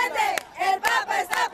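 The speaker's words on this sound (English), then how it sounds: "The crowd chants, we feel, we see, the Pope is present." A large crowd in Washington, D.C. chants in unison for Pope Francis, rhythmic shouted phrases rising and falling about every half second, loud and energetic.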